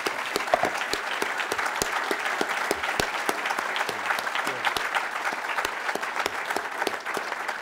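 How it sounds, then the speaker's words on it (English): Sustained audience applause at a campus lecture and conversation event, dense steady clapping from a sizeable crowd that fills the whole stretch without talk. "we can go ahead and applaud."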